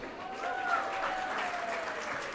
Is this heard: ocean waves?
no